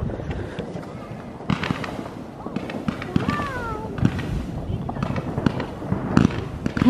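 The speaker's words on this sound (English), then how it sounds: "somebody's shooting fireworks right in front of us" Fireworks bursting on New Year's Eve in Berlin, with repeated sharp bangs and crackles at close range, some whistling, amid crowd noise and people talking and exclaiming nearby.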